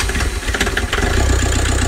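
A Toyota Grandia's 2KD diesel engine, its injection pump converted back from manual to electronic, runs with a steady, loud, close diesel clatter and rumble that settles into an idle.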